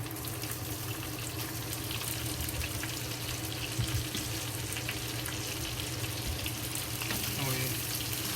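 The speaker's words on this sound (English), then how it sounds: "We add the cabbage. The cabbage we just use the hand to cut the pieces and add it to it." Hand-torn cabbage hits a hot pan with bacon over a big flame and sets off a continuous dense sizzle, with a few clinks and stirring noises partway through.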